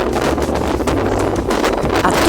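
Strong wind buffets the open outer deck of a passenger ship sailing toward Santorini, a loud roaring rumble of gusts hitting the microphone, continuous and close with no speech.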